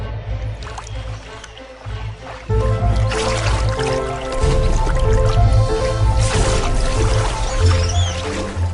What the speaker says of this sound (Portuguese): Quando vê um alvo, o aroanã salta da água para o ar.